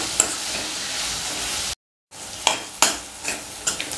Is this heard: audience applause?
no